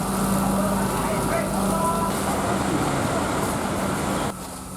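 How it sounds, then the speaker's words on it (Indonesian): A fire burns in a motorcycle spare parts shop beside a Yamaha motorcycle dealer, probably started by an electrical short. It makes a loud, steady roaring rush that runs without a break and drops slightly at the end. "api cepat membesar dan merambat ke dealer sepeda motor di sampingnya"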